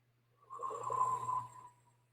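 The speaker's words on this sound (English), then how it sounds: "Slow exhale." A single slow, breathy exhale during relaxation breathing, rising gently and fading over about a second, close and quiet over a low steady hum.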